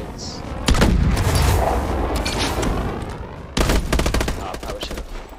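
Call of Duty: Advanced Warfare training combat: a smart grenade blast followed by bursts of rapid automatic gunfire, loud and dense, with a second burst of fire near the end.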